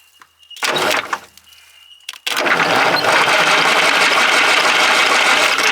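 The engine of an Allis Chalmers bulldozer that has sat for 20 years cranks over: a short loud mechanical burst and clatter, then a sustained, harsh, steady roar that continues to the end.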